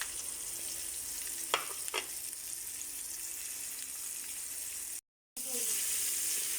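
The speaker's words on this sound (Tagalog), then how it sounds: "Magpiprito na po tayo ng ating pork chop." Pork chop frying in a pan, seasoned with pepper: a steady, even sizzle runs throughout, with a couple of brief clinks of utensils early on and a short dropout near the end before the frying resumes slightly louder.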